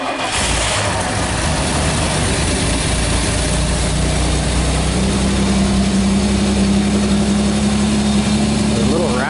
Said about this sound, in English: This beast little V6 come to life.